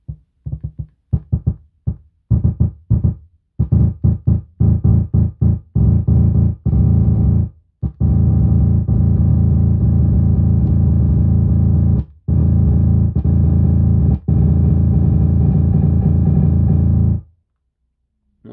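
Sidechained bass from a PO-33 pocket sampler chopped into a drum rack: short rhythmic stuttering hits at first, then a loud sustained distorted bass with sharp periodic dips and cuts, ending abruptly.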